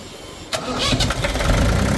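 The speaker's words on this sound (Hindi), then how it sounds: "चलिए दोस्तों स्टार्ट करके आपको आवाज़ चेक कराते हैं जनरेटर की" A 20 kVA generator powered by a Mahindra 3305 engine starts with a short cranking burst, then catches and settles into a loud, steady diesel running note up close.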